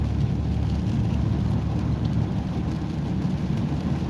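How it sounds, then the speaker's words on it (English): Steady rain drumming on a car while driving on a two-lane road, a continuous dense wash of droplet patter over low road and engine rumble, with no voices. "Like now, this is what it looks like in the rain."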